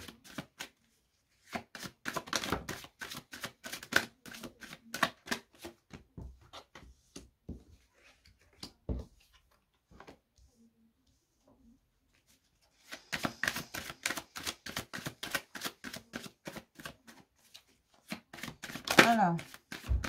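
Tarot cards shuffled by hand in repeated riffling bursts, close and crisp, in two long runs separated by a quiet pause, with a few soft taps between them.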